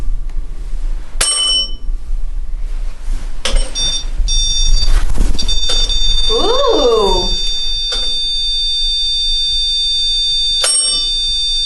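Electronic bell on a paranormal investigation device aboard the USS Batfish submarine, ringing in a few sharp bursts with a warbling tone midway, amid a steady low hum and a brief exclamation.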